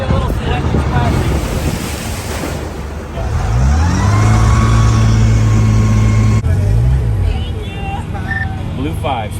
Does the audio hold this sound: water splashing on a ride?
yes